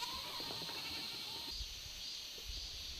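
Goats bleat faintly on the mountain pasture of Pyeongchang's Haneulmaru goat farm, giving a few distant calls over soft outdoor background noise.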